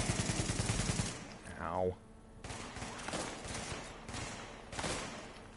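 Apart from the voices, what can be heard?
shotgun gunfire in a video game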